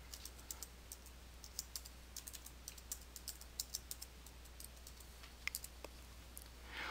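Light typing on a computer keyboard while entering text into a WordPad document: quiet, close, irregular key clicks with short pauses, no voices.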